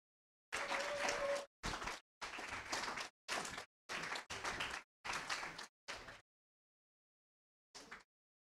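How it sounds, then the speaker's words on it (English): Hackathon attendees at a generative AI event give a round of applause for a team, heard as a series of separate clapping bursts broken by short silences, then a last brief burst after a longer pause. "So I want you to give a round of applause to the team at Vesta."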